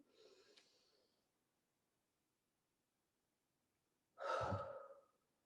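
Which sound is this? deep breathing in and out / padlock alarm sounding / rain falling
deep breathing in and out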